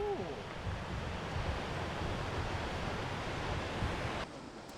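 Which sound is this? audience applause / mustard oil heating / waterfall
waterfall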